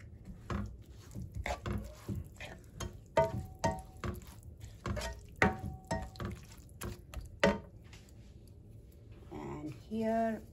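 A spoon stirs a moth bean mixture with coriander in a pan, giving a series of close, irregular scraping knocks and clatters, with a voice speaking between them.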